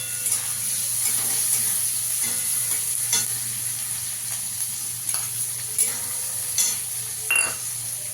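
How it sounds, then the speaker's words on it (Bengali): Prawns and chopped onion fry together in a pan, giving a steady, close sizzle with intermittent scrapes and light knocks of stirring throughout. "চিংড়ি মাছ দিয়ে দেবো, চিংড়ি মাছটাও পেঁয়াজের সঙ্গে একসঙ্গে ভেজে নেব।"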